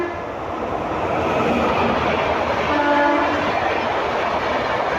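The Bhagat Ki Kothi Superfast Express 20484 thunders through Navsari station without stopping, a loud continuous roar of wheels and wagons with a horn blast sounding in the middle.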